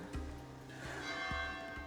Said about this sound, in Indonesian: Lonceng sebagai penanda ibadah pun masih berbunyi hingga saat ini.